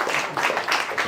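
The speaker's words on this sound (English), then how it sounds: "Clap for yourself." Audience applause at a stand-up comedy show, a brief burst of steady crowd clapping, close and fairly loud, with no talk over it.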